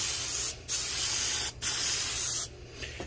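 Three hissing bursts from a spray can of Polycrylic water-based clear matte finish, each about a second long and separated by short pauses, close to the microphone, spraying a carved sign.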